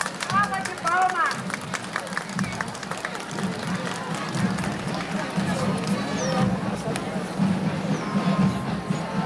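Audience clapping for schoolgirls at a 1991 school marching band parade in Santa Rita de Caldas, a loose outdoor patter of hands mixed with crowd chatter and voices throughout.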